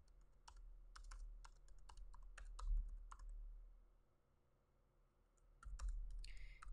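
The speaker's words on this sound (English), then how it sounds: "Typing it in" Keys clack on a computer keyboard in quick bursts of close, crisp clicks with short pauses, heard during a crochet-along session with no talking over it.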